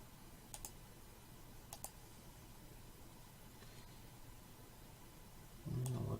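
Sharp mouse clicks while working in Photoshop, a few faint isolated clicks spaced apart over a steady low background hiss.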